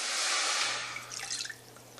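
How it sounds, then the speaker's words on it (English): A cup of water is poured into a stainless steel pan about three inches deep, a loud rushing splash that tapers off into a few scattered drips and trickles, close up and with no voices. "So I'm going to add to the pan a cup of water."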